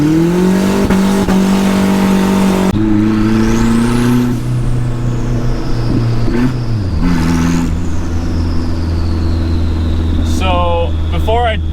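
A turbocharged Nissan truck of about 250 horsepower revs hard while shredding its tires, a loud, sustained engine roar with rising and falling pitch and sharp screeching squeals over it.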